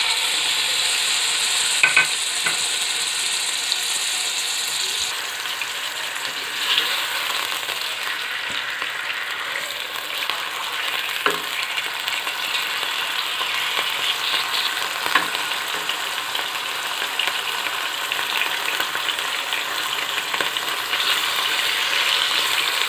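Chicken frying in a kadhai for a chicken karahi, a loud steady sizzle with intermittent scrapes and clinks of a spatula stirring against the metal, close and continuous.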